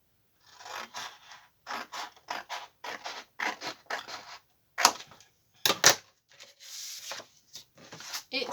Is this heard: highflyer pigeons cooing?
no